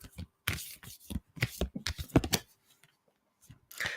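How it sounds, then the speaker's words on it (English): Oracle card deck being shuffled by hand during a live card reading, a run of soft riffling and flicking bursts with short pauses between them, moderately close and fairly quiet. "I've been like shuffling this deck for like 10 minutes."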